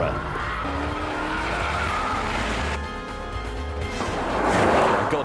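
Car driven hard in Sport Plus with stability control switched off: continuous loud, close skidding with squealing tires over a roaring engine, the squeal pitch shifting as the car slides.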